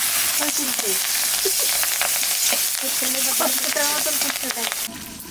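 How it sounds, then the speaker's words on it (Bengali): Black cumin seeds and dried chillies fry in hot oil in a pan, a loud, steady crackling sizzle with scattered pops and spoon scrapes throughout, close up, fading slightly at the end. "তেলের পর দিয়ে দেবো কালো জিরে কটা শুকনো লঙ্কা কটা কাঁচা লঙ্কা"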